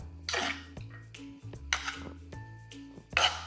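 A metal spoon clinking against a pot while beef pickle is mixed, a few sharp separate clinks and scrapes with quiet gaps between them, close and fairly soft.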